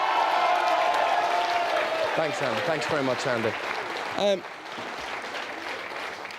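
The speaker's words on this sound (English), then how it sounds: "Big round of applause," A television game show studio audience applauds and cheers Eamonn Holmes while someone speaks briefly over the clapping. The applause tapers off before a short burst of talk and quieter room sound.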